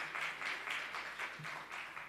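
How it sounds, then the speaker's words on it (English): Faint, distant applause from a conference audience at a forenoon session welcoming a speaker, a soft patter of clapping in uneven waves. "A big applause, please."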